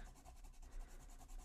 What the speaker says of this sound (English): I'll take my eraser and I'll just get rid of any